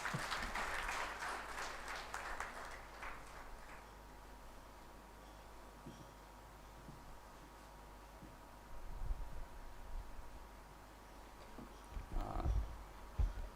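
An audience at a lecture hall applauds a Madras High Court judge, steady crowd clapping that fades after about three seconds, followed by a quiet room with faint shuffling and low thumps.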